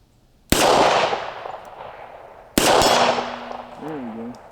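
Two loud revolver shots from a Ruger SP101 firing .38 Special rounds at a steel target 35 yards away ring out about two seconds apart, each followed by a long reverberating echo, with a brief voice after the second.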